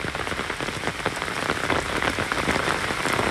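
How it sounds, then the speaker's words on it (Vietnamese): Heavy rain pours steadily at a grave site, a dense, loud, even patter of drops hitting surfaces close by with no break. "Ồ mưa lớn quá"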